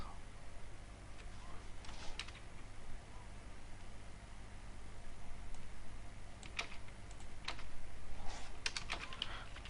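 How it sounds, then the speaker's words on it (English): Keys clatter on a computer keyboard in quiet bursts, a few faint clicks early and then denser runs of taps near the end, recorded close over a low steady hum. "in before method I'm going to type"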